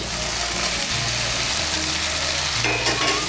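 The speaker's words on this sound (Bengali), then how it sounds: "ঢেঁড়সগুলোকে মিশিয়ে নেব, মশলার সঙ্গে মিশিয়ে নিয়ে আর একটু কষিয়ে নেব" Fried okra being stirred into spiced potatoes in a pan, a dense, loud continuous sizzle with rough scraping stir strokes, heard up close and alone.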